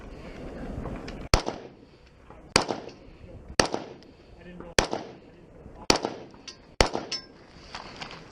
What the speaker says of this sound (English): Now 6 rounds from the prone position.